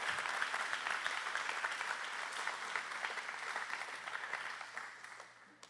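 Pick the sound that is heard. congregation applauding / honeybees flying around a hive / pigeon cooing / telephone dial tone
congregation applauding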